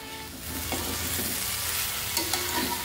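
Chopped vegetables and eggplant sizzle steadily in a hot pan while a spoon stirs them, the continuous frying hiss broken by a few soft scraping strokes, close and alone with no talk.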